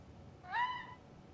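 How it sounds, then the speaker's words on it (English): A single short, high meow from a cat-like creature in Final Fantasy XVI rises and falls in under half a second, fairly clear against a quiet background. "they sound like cats, though"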